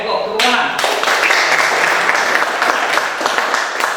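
Students in a classroom clap briefly together in a burst of hand claps that starts after a voice and tapers off, fairly close, with speech around it.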